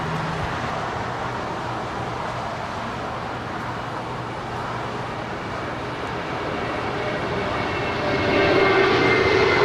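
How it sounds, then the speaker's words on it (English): A JetBlue Airways Airbus A320 jet departs for JFK from LAX, its engines a loud, steady broadband roar that swells further near the end, with no voices over it. "this A320 is departing to JFK. JetBlue Airways Flight 1524"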